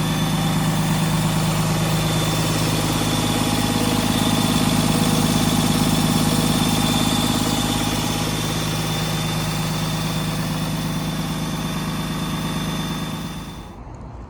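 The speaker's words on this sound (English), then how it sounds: "the engine is looking and running great" A 2015 Freightliner M2 106 diesel box truck engine idles with a steady low rumble and constant vibration for a long stretch, then cuts off abruptly near the end.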